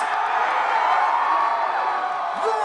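A concert crowd screaming at a show, a loud sustained roar of many voices with whoops rising over it, close and continuous throughout.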